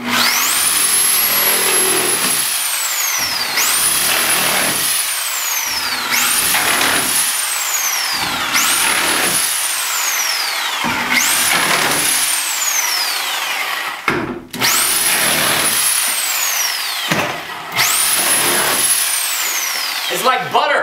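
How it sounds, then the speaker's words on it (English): A Bosch RS325 12-amp reciprocating saw cuts through material in loud, close bursts, each cut rising to a high whine and separated by short gaps, repeating about seven times. "we're gonna take this Sawzall and go to work"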